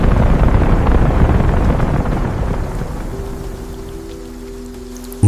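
Heavy rain pours at night in a dense, loud roar that gradually eases, with a low sustained hum coming in toward the end and an abrupt thump right at the close.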